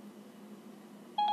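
Touch-tone dialing beeps as a phone assistant places a call to a home number, a short burst of clear tones arriving right at the end after a quiet, humming pause.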